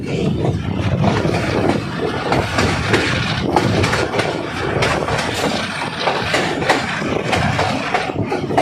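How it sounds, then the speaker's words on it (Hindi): A Pakistan Railways train with a 2000 hp Hitachi locomotive, number 8069, hauling five coaches on the Jaranwala route: a loud, steady rolling rumble with rhythmic clickety-clack of wheels on rail and no talk. "इस वक्त हमारी रेलगाड़ी 8069 पावर के साथ, जो कि 2000 हार्स पावर इंजन है हिटाची का, 5 कोचिस के साथ जड़ावाला रूट की तरफ गामजन है"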